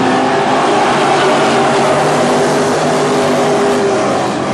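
Dirt track WISSOTA Midwest Modified race cars roar around the oval at North Central Speedway as a race starts, a dense, loud, steady engine drone from a pack of cars with no break.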